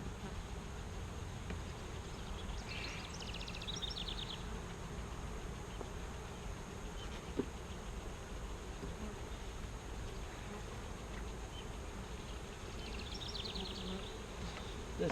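Honeybees drone steadily around an opened nuc hive during an inspection, a continuous low buzzing that stays fairly faint and even throughout, with a brief sharp click near the middle.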